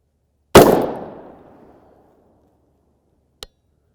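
An M855 round from a 16-inch AR-type rifle strikes a Level III UHMWPE armor plate outdoors: one loud, sharp shot with a long ringing decay, followed a few seconds later by a brief, fainter sharp crack.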